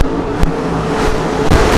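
J2 race car engine roaring on the dirt track at State Fair Speedway during a fair race, a steady loud drone with brief surges as cars pass close by.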